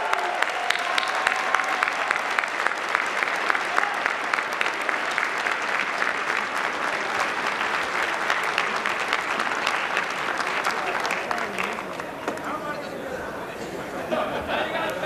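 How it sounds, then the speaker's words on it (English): Sustained applause from a live audience at a Libertarian presidential debate, just after an auction sale, with dense steady clapping and crowd chatter running throughout at close range. "Give him a round of applause."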